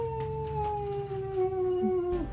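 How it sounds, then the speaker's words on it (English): Wolves howl out in the Canadian wilderness away from a trailer, one long sustained howl sliding slowly downward, distant and alone. "Serious howl. Wolves."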